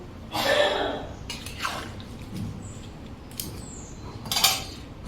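A lid goes onto a pot of shukto, a Bengali vegetable stew, with a few close metallic clanks and light rattles over quiet kitchen background noise.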